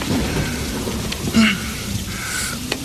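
Heavy rain pouring down as a steady, dense wash of noise with a low rumble beneath, faint background sounds occasionally poking through.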